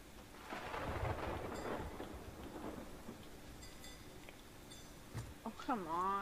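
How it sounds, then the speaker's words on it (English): Rumbling thunder and steady rain from a storm in the pirate video game Sea of Thieves, faint and low, with a few clinks and a wavering tone near the end. "Looks like the storm's passing"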